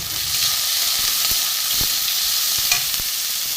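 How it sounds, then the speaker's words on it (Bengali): Chopped tomato and garlic fry in hot oil in a pan, a loud, close, continuous sizzling hiss with occasional sharp stirring clicks and no talk. "এগুলো একসাথে ফাটিয়ে দেবো, দিয়ে আমি একটু ভাজবো।"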